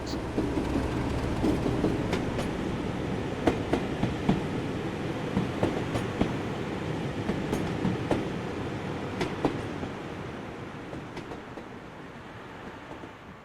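Diesel locomotive 37798 passes along a heritage line with a heavy, continuous rumble and a regular clickety-clack of wheels over rail joints, loud at first and gradually fading as it moves away.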